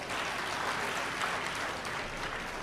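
An audience at a public speech breaks into dense, sustained clapping that fills the space evenly from start to finish, with no gaps.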